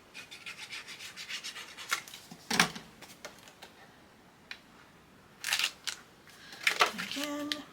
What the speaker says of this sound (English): And burnish that down